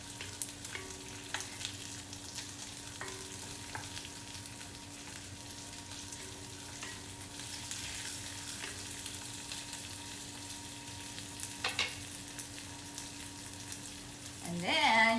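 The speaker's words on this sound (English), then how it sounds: "all I need to do is just put in all the ginger, green onions, and garlic. Okay. And then give it a quick stir." Ginger, green onions and garlic stir-frying in a wok for black pepper shrimp, a low steady sizzle with occasional light utensil taps, ending in a louder burst of frying.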